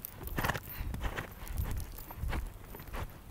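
A horse's hooves thud on soft ground in a repeating three-beat canter rhythm, close by and moderately loud, with no talking.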